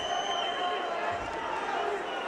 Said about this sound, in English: Good crowd in here today.